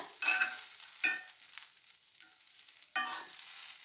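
Bread and vegetables stir-fried with pepper powder in a pan, three short bursts of sizzling and scraping as the mix is tossed, with quieter frying hiss between.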